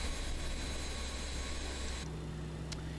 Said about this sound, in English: What a lovely sound from the aircraft?